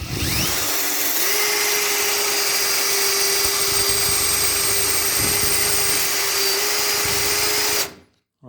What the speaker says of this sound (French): Là, j'ai percé avec le mèche en diamant.